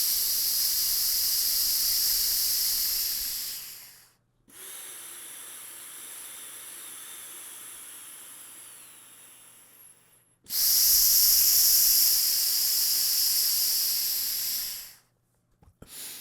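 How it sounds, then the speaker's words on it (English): Breathing exercise through an Aerofit inspiratory muscle trainer makes long, loud, airy hissing breaths, one inhale and one exhale of several seconds each separated by a short silence, close to the microphone, with no talking. "you can play with both the inhale and exhale, toughening the diaphragm on the inhale and the exhale"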